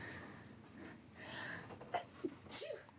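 Several quick sneezes burst out in succession near the end, sharp and close, after a stretch of soft breathing and faint background noise.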